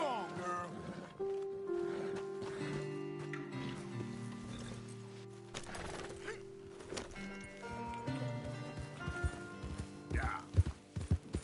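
Horse hooves clip-clop in Red Dead Redemption 2, a soft, uneven run of hoofbeats under game music and ambience, with someone talking briefly over it.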